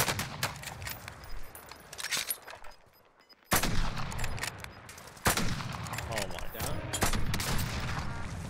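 Gunfire in the Call of Duty Warzone battle royale, with sharp loud reports and bursts spread across the stretch, a brief near-silent gap, then more shots and impacts, while players talk over the action.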